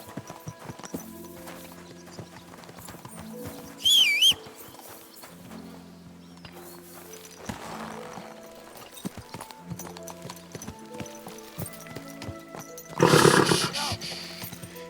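Steady clip-clop of horse hooves at a walking rhythm in Kingdom Come: Deliverance II, over a background music score, with two short bursts of a horse snorting or neighing.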